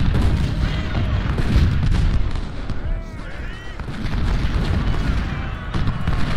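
Musket and artillery fire in a Battle of Gaines Mill video game, a continuous, rumbling barrage of booms and crackling volleys that rises and falls across the battlefield, with some voices mixed in.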